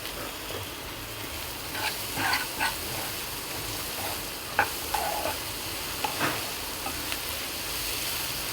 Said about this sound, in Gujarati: હવે આપણા વેજીટેબલ ફ્રાય થઈ ગયા છે.